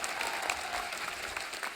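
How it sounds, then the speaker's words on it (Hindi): Studio audience applause on an Indian comedy talk show, a dense, steady wash of many hands clapping at moderate distance, with no talking over it. "जोरदार तालियां होनी चाहिए।"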